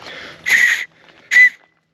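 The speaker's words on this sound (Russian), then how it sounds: "когда вы находите в походе маленькую гильзу, можно использовать ее как свисток" A small spent cartridge casing blown as a whistle on a hiking trail gives two loud, shrill blasts close by, a longer one followed by a short one after a brief pause, with no talking.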